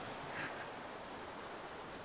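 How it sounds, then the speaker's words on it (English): Ritchie Falls, a waterfall among birch trees on a snowy day, gives off a steady, soft broadband rush that holds constant throughout with no other sounds. "Ah, the sound of Ritchie Falls."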